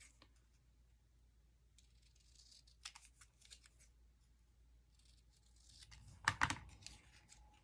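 Scissors snip through junk mail paper close by, a few soft cuts followed by a sharper burst of snipping and paper rustle near the end, quiet overall.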